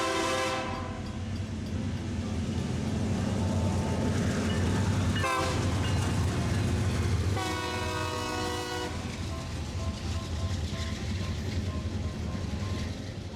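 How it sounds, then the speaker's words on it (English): The daily CSO4 Hartford line freight train rolls past nearby with a loud continuous rumble and wheel noise, its horn sounding in two distinct blasts partway through. "so you could see CSO4, the daily Hartford line freight"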